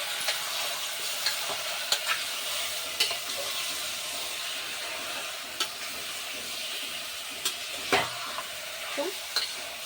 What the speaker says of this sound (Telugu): ఇలా కొద్దిసేపు ఫ్రై చేసుకోవాలి